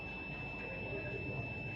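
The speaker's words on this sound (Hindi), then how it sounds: "आपको बीप की आवाज़ आ गई होगी।" Steady electronic tone from a dish TV satellite finder meter, a continuous high-pitched beep held at constant level throughout, near and fairly loud over faint background hum.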